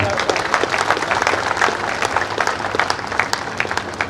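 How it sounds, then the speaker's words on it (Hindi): Audience applause at a public event in Udaipur, a dense burst of many people clapping at once, loud and sustained for several seconds. "मैं चाहूँगा एक बार उन सबके लिए फिर ताली।"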